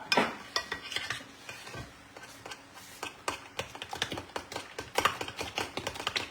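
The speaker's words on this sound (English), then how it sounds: "She's stirring everything together." A cabbage bread mixture being stirred in a bowl, with a run of quick uneven clicks and soft scrapes from the utensil, close and moderately loud, no talking.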